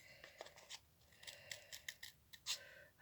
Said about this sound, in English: it's quite difficult to get your scissors in there